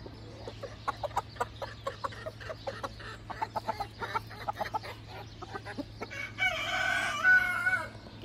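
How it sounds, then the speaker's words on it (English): Roosters crow outdoors, with a loud, drawn-out crow near the end. Before it comes a run of short, rhythmic clucks and calls, and a low steady hum sits underneath. "both my roosters crow more"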